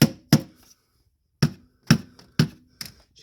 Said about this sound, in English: You just want to seat this a little bit with a rubber mallet.